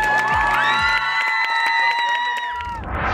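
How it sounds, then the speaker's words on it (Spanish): An audience at the Baja Web Fest 2015 event cheers and whoops loudly. Sustained tones ring out above a crowd roar, and bursts of shouting and applause swell again toward the end. "Y yo quiero que demos un aplauso para todas las personas que me posicionaron donde estoy ahorita"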